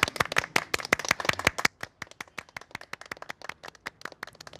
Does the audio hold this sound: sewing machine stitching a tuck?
no